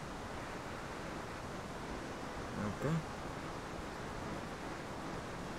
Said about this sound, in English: Waterfall's a little bit annoying on the ears.